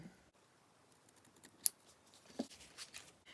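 Scissors trimming a papercraft card piece, a couple of faint, sharp snips spaced apart in a quiet room, with no one speaking.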